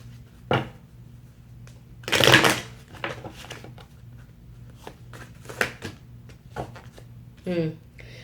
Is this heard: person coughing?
no